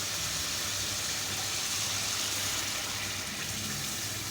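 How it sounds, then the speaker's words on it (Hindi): Water pours steadily into a cooking pot of turnip and meat curry, a broad rushing hiss, close by and continuous, with no voices over it. "इसमें आधा गिलास मैंने पानी डाला तकरीबन।"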